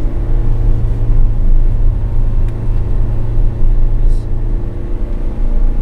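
A tourist bus runs along a road near Mangunan, its loud, steady engine rumble and road drone filling the scene with faint voices underneath.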